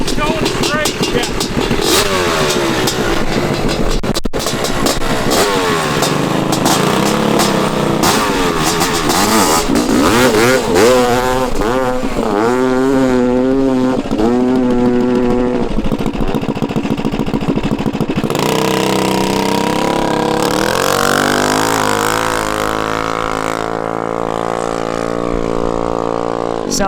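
A worn Honda CR500 two-stroke motorcycle drag racing on a hard-packed sand strip, engine screaming loud and close as it revs up, drops briefly at the shift into second gear, then pulls hard again, with people talking over it.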